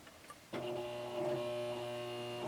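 A sewing machine stitching along the top edge of a cloth face mask starts abruptly and runs in a steady, close whirring buzz with a constant motor tone.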